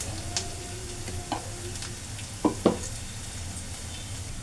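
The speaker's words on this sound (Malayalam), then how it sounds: "ഉള്ളി അടുപ്പിൽ കിടന്ന് മൂക്കുന്നുണ്ട്" Onions fry in a pan on a stove with a soft, steady sizzle, quiet and close, broken by a few sharp utensil clicks and taps.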